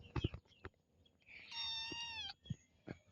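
A sick red cat meows close by, one drawn-out, wavering meow in the middle set between short bumps and rustles, with no talk.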